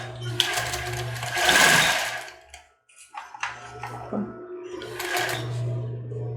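A sewing machine stitching lace onto a cropped top, with two buzzing motor runs separated by a short pause filled with fabric handling and light clicks, close and clear, no speech.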